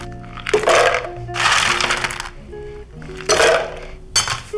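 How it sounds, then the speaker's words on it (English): Scoops of ice tumble into cocktail glasses for a Miami Vice rum drink in four loud, crashing bursts of rattling, clinking cubes, each a second or so long with short quiet gaps between. "we're gonna put a scoop of ice in each one"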